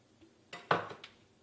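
Ingredients for pumpkin spice sugar cookies being mixed in a bowl, heard as a short burst of scraping and clinking from a utensil against the bowl, close and moderately loud after a quiet moment.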